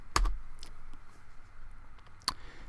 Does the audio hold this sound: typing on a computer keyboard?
yes